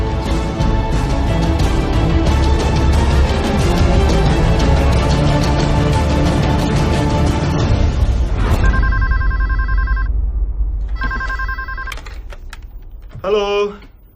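A telephone rings in a busy office, following a stretch of steady keyboard typing and background chatter; two bursts of ringing stand out clearly near the end.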